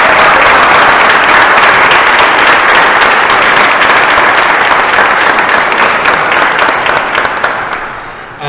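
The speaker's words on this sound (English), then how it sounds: "Let's give them a round of applause" Loud, sustained crowd applause at an outdoor Pride 2022 flag raising in Monroe County, dense clapping from many people holding steady before gradually thinning toward the end.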